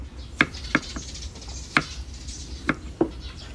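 A knife chops bamboo shoots on a board in a few sharp, close knocks at an uneven pace, standing out clearly over a quiet background.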